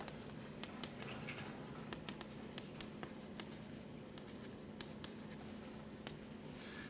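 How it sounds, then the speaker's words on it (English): Chalk or marker scratching and tapping on a board during a mathematics lecture, many short strokes in an irregular rhythm over a steady room hum, with no talking. "I'll just write this."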